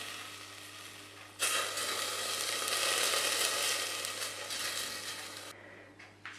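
Sugar melting into caramel in a pan gives a soft, steady sizzling hiss that rises suddenly and holds for several seconds before cutting away, with a low hum underneath and no voices.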